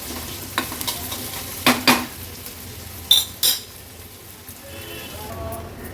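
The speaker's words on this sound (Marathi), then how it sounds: "आता गॅसची फ्लेम लो करते आणि कांदा व्यवस्थित शिजवून घेते" Onions cooking in a pan over a low flame, a quiet sizzle beneath a few sharp clinks and scrapes of a utensil against the pan, close by.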